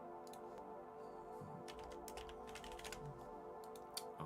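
Someone types steadily on a computer keyboard, producing quick, faint clicking keystrokes in an irregular rhythm with no voices.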